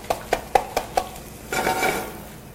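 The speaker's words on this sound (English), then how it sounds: "We're going to put in our onions." Onions dropped into a hot frying pan for a vegetable frittata with shiitake mushrooms: five sharp knocks of a utensil against the pan, then a loud sizzle and stirring rush, with no talking.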